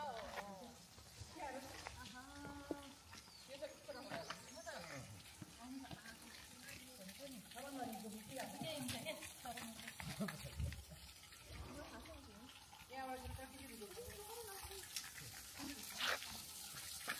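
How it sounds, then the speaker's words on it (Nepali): Clean water runs steadily from a tap, a continuous splashing flow heard beneath people talking nearby. "यहाँ चाहिँ स्वच्छ पानी पनि आउँदै रहेछ यहाँ त अब यो धाराको छेउमा"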